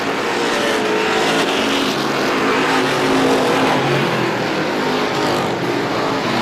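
Several race cars battle closely for position at a local short-track motorsports event, their engines roaring loud and steady without a break, with no voices over them.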